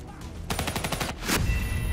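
Gunfire in the video game Black Ops 3: a quick burst of several rapid shots followed by another sharp blast, loud and close against a busy game background.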